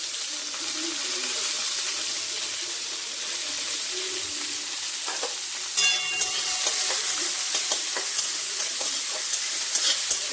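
Chopped onion, ginger and garlic fry in hot refined oil with a steady bright sizzle, and a spoon stirs them in, adding scraping and clatter partway through; no voices.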